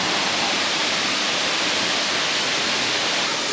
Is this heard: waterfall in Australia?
yes